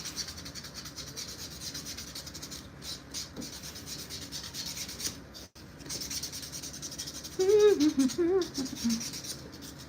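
Acrylic nail tips being buffed and filed during a chrome full set, a steady close-up rasping and rubbing that runs nearly the whole time, with a brief murmur of voice near the end.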